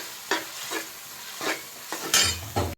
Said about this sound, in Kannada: ಈಗ 2 ನೀರುಳ್ಳಿ ಹಾಕ್ತೇನೆ. ಇದನ್ನು ಚೆಂದಾಗಿ ಫ್ರೈ ಮಾಡಬೇಕು.